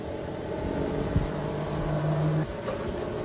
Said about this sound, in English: the motor will start running